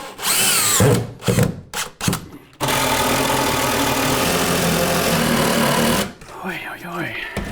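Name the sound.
impact driver driving screws into a wall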